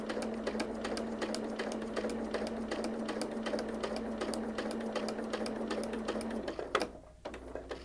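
A sewing machine runs slowly and steadily while piecing a quilt block with sharp points, its close, even needle chatter carrying a constant hum for about seven seconds before stopping abruptly, followed by a brief handling rustle.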